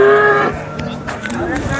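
A cow at the Sangola cattle market in Maharashtra gives one loud, close, drawn-out moo that fades after about half a second, followed by background market noise and indistinct voices.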